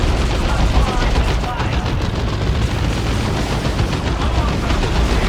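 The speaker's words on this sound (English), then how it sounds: "Just shoot them with my gun." Dense, continuous gunfire and explosions in the Dawn of War 2: The Last Stand strategy game, steady and loud throughout with rapid overlapping shots and booms.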